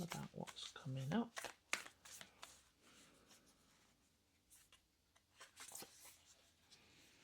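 Tarot cards for a pick-a-card reading are shuffled and handled close up. Quick flicks and slaps in the first couple of seconds give way to softer sliding and tapping, with quiet talking in the background.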